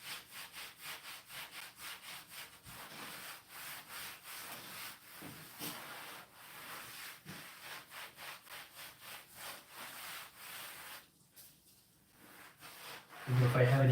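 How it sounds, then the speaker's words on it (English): A grout rub-out tool drags along the grout seams at the top of a shower in steady, rhythmic rubbing strokes, close and moderately quiet, with a brief voice or knock near the end. "it basically transfers and rubs along the seams so it smooths it out"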